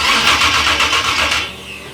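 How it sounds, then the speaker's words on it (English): Big block Chevy engine in a 3rd gen Camaro cranking over, a close, loud, rhythmic starter whir with pulsing compression beats that stops abruptly after about a second and a half without catching. "Let's crank it over. I want to see if we got the spark."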